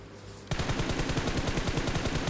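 Rapid automatic gunfire from a scoped weapon in PUBG Mobile: a quick, steady string of close, punchy shots, about twenty, fired in a tight rhythm after a brief quiet moment.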